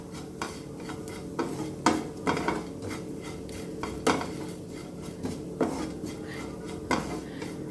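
Chili powder and turmeric roasting in a pan for spinach-stem sambhar, heard mostly as repeated metallic spoon scrapes and taps against the pan over a faint sizzle, close and rhythmic, with no speech.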